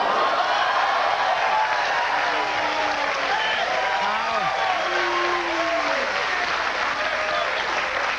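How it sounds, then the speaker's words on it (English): Studio audience applause and crowd noise on a daytime talk show, continuous throughout, with voices and shouts rising over it. "Why are you applauding?"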